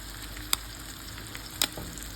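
Butter melting in a pan gives a steady, close sizzling hiss with two brief sharp pops or clicks, and no one speaks.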